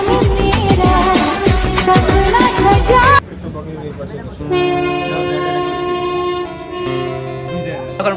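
A train pulls in with a heavy rumbling clatter of wheels and cars, then a sustained horn blares for several seconds, loud and near.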